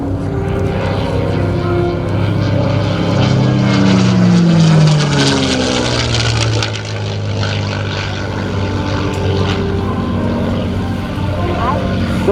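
A P-51D Mustang propeller fighter at an air show roars past loudly and steadily, its engine note sweeping down in pitch as it passes, with an announcer talking over it.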